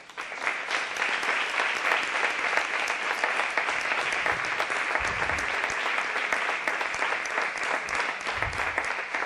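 An audience at an Andalusian solidarity event for Palestine applauds the organizers, a thick, sustained round of clapping from a sizable crowd that holds steady for about nine seconds, with a few low thuds beneath.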